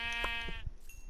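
Sheep bleating in the video game Minecraft, a short wavering call near the start followed by a second faint bleat, close and clear with no talking.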